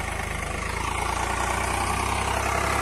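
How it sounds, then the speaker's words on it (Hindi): A Swaraj tractor engine chugs steadily nearby in first gear with a rapid low thrum, running evenly without strain for a few seconds. "ट्रैक्टर आज थोड़ा सा भी दब नहीं रहा, फ्री चल रहा है एकदम"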